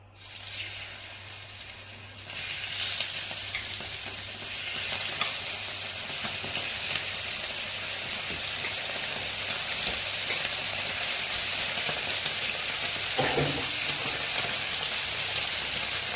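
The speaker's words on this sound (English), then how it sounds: "Oh, you can probably hear that now, so they're frying away in there" Chicken sizzles steadily in a hot pan, a dense continuous frying crackle that starts abruptly and holds close and loud throughout.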